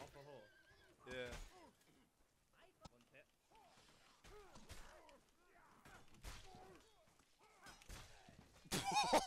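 In the medieval combat game Mordhau, a horse whinnies and neighs several times amid clip-clopping hooves, thuds and clashing battle noise, with a sharp burst near the end.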